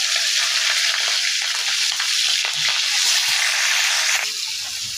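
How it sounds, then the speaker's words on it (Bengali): Green chillies frying in soybean oil in a wok give a loud, continuous crackling sizzle with small bursts of spatter, easing slightly toward the end, with no talk. "আমি কড়াইতে দিয়ে দেবো পরিমাণ মতো সয়াবিন তেল কড়াইতে পরিমাণ মতো তেল দিয়ে দিছি আর দিয়ে দেবো কিন্তু কাঁচা মরিচ"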